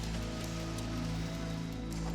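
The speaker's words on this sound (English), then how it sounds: "It's beautiful, it's raining." Winter rain falling outdoors in Nablus, a steady, dense patter that stays level and close throughout, with no talk.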